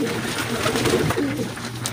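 Racing pigeons at a loft in San Manuel, Tarlac, Philippines coo repeatedly in low, throaty rolls, fairly close, with a steady background hum and light rustling.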